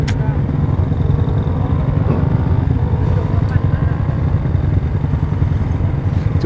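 Yamaha Jupiter Z 180cc motorcycle with a rebuilt engine, heard while riding: a loud, steady engine drone with rattling clatter and rushing wind, with a voice talking over it.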